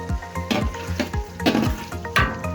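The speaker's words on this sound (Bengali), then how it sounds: "গাইস এখন আলুগুলো দিয়ে দেওয়া হচ্ছে।" Potatoes and meat frying in a pan, an uneven series of sharp sizzling bursts and stirring scrapes heard up close with nothing else over them.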